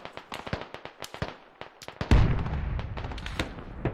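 Rapid rifle fire in the video game Squad crackles as a string of sharp shots, followed by a heavier close burst of gunfire with a rumbling low tail.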